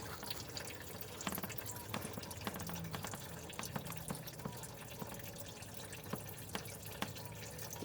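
Coolant drains out of a Chevrolet Silverado in a faint, continuous trickle with scattered splashes and drips, heard quietly with no talking.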